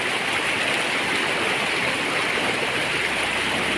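Strong rushing water roars continuously, a steady full-bodied flow close by with no voices.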